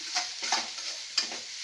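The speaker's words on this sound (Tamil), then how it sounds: "நல்லா 2-3 நிமிஷம் வெங்காயம் நல்லா வதங்கணும்." Onions sautéing in a pan while being stirred, part of Chettinad spicy mutton pepper chops; a soft steady sizzle with a few scraping stirs, close and fairly quiet.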